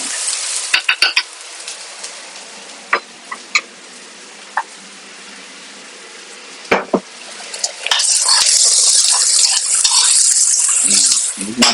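Spicy adobong catfish frying in a pan, with steady sizzling that swells louder near the end, broken by sharp clanks of stirring.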